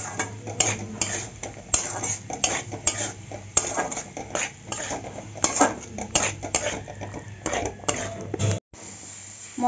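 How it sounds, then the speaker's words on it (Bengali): Green peas being stirred into a cooked spice masala in a pan for matar paneer: repeated metal spatula scrapes and clinks against the pan over a low sizzle, close and busy throughout. "মটরগুলি দিয়ে ভালো করে কষিয়ে নিয়েছি।"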